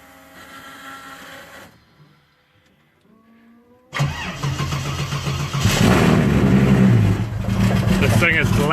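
Car engine cranking and firing up, quiet at first with talk, then a sudden loud catch into a rough, roaring idle that swells and stays loud.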